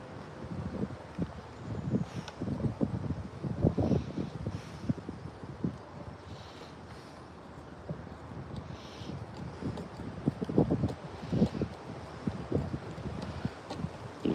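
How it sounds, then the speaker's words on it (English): Strong wind gusting outdoors, a steady rushing roar with buffeting bursts against the microphone that swell and ease over the whole stretch, with no voices. "That wind is really blowing."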